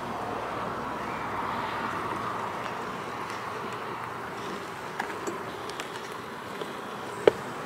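A steady, dense buzzing of many honey bees in a small hive, close and continuous, with a few faint clicks and taps near the end.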